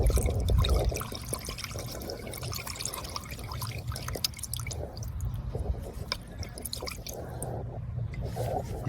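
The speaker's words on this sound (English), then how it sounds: "just spin it into the brake cleaner" An O2 sensor from a 2009 Chrysler Town and Country is swished around in brake cleaner, giving a steady, close wet sloshing and dribbling that runs the full nine seconds.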